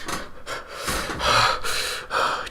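A person breathes loudly and close into a podcast microphone, several heavy breaths and snorty exhales in an uneven rhythm, each one rasping and airy, with no words spoken.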